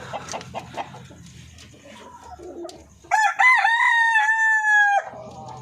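Darag, Paraoakan and Basilan chickens cluck in the background before one rooster lets out a single loud, drawn-out crow close by.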